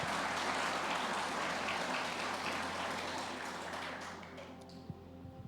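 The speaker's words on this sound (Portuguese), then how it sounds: "Aplauda Ele mesmo." Church congregation applauding after a sermon's call to praise, a dense steady clatter of many hands that thins and fades toward the end, with a few stray claps lingering.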